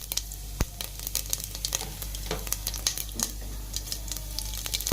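Whole spice seeds crackle and sizzle in hot oil at the start of cooking a Telangana-style chicken pulao, giving close, continuous frying hiss with sharp pops and ticks scattered throughout.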